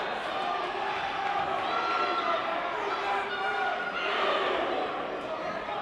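A school basketball crowd at a Peddie versus Kiski game murmurs and rumbles in displeasure over a foul call, a sustained wash of many voices filling the gym.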